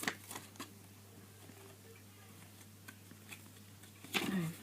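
A stack of paper cards being handled and shuffled, with brief rustling bursts at the start and end and quiet pauses between.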